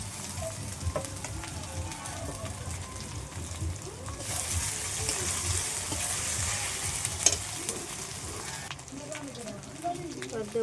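Garlic frying with browned onions in a pan, a steady sizzle and crackle with occasional stirring, which gets louder midway, and a voice talks quietly underneath.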